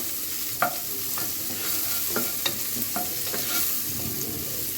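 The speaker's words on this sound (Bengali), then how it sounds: "হালকা করে ভেজে নেব" Beef for tehari frying in a pan with chopped onion and stirred repeatedly, a steady close sizzle broken by sharp utensil scrapes and clinks against the pan.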